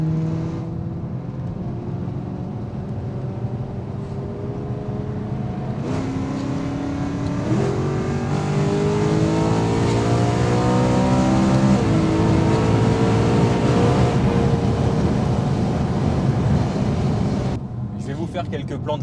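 A BMW M3 E92 with DKG gearbox revs hard, its engine pitch climbing and falling in loud sustained surges, heard close by from outside the car.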